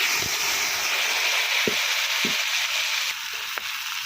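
Potatoes and gima greens fry in a pan in village style, with a continuous soft sizzling hiss and a few sharp clicks of a spatula stirring against the pan.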